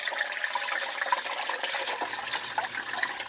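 Homemade chicken broth is strained into a pot, pouring and splashing in a continuous close watery stream for a few seconds.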